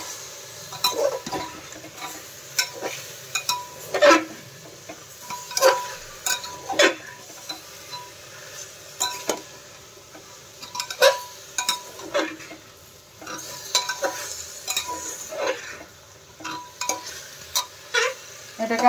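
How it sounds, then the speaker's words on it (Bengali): Chicken pieces, about eight, being stirred in a pan over a high flame, with irregular utensil scrapes and clinks over a faint sizzle, fairly close and with no voices. "এটাকে হাই ফ্লেমেই অল্পক্ষণ নাড়াচাড়া করে নিতে হবে।"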